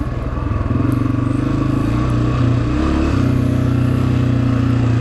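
Honda CRF250F dirt bike engine labouring up a hill during a hare scramble race, a loud, steady close-up drone with the throttle held and slight surges in revs throughout.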